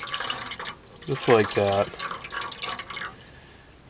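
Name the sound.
water swirled in a jar to rinse out tomato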